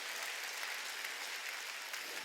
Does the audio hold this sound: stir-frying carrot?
no